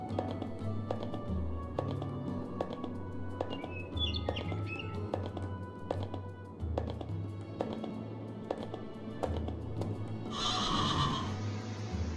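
A horse in a video game whinnies over a steady low game soundtrack, with repeated light tapping hoofbeat-like clicks and chirping bird calls, the neigh standing out near the end.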